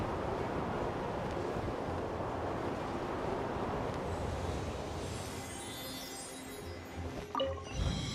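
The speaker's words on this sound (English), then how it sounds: "Let's ride this wind current, shall we?" Steady broadband whoosh of a wind current in Genshin Impact, a continuous airy roar holding loud and even, easing slightly toward the end with a few faint bumps.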